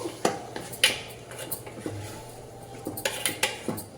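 A metal spoon stirs gram flour dumplings into curry in a cooking pot, giving a string of close, sharp scrapes and clinks against the pot walls, loud and irregular with no talking.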